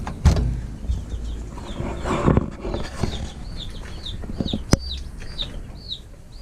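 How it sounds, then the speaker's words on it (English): Eight baby chicks in a cardboard-lined cage give repeated high, thin peeps in quick rising chirps, close by, with a few sharp clunks and rustles of movement around them. "There's 8 baby chickens."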